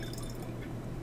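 Vinegar poured onto baking soda in a gas stoichiometry lab with water displacement: a brief, steady liquid pour with soft dripping and fizzing, heard close and alone.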